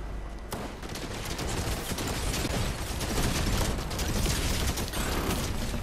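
A Fortnite turret fires a rapid, continuous mechanical stream of loud shots with a rattling, ratcheting texture, with no talk.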